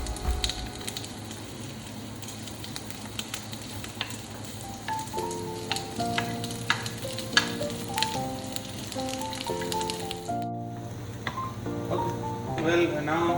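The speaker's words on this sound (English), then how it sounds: "So I'm going to put some onion onto it." Onion frying in a pan, giving a steady background sizzle under a voice that talks throughout, with light clinks now and then.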